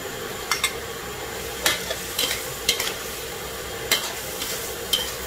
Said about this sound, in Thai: ใช้ไฟแรงในการผัดเลยนะคะ